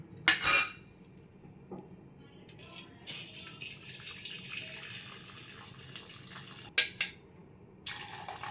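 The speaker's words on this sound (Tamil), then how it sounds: "நம்ம இந்த எக்ஸ்ட்ரா இருக்க தண்ணியை ஒரு கிணத்துல மாற்றிக்கலாம்" Excess cooking water from boiled lentils is poured into a vessel, giving a quiet trickle with a few metallic clinks of a pot at the start and again near the end.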